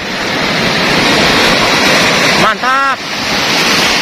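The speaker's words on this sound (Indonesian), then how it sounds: "Ombak besar, teman." Big ocean waves crash on rocks along a rocky coast during a fishing camp, a loud, steady roar of surf and wind. Someone speaks briefly over it near the end.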